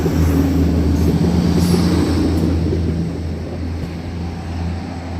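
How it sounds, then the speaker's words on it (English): An UP Express train rolls beneath a pedestrian bridge in Toronto, a loud, close, continuous low rumble and roar that eases slightly as it passes. "And nope, it's an Up Express train."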